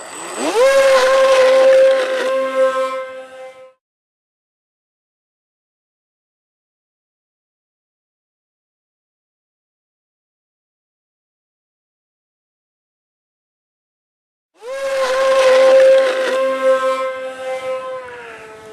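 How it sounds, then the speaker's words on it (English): A radio-controlled model Hercules aircraft takes off from rough gravel ground at Squaw Peak Lookout in Utah County, its engines and props roaring loud and close for a few seconds, then silence, then a second steady roaring burst. "There's a rough ground takeoff for you."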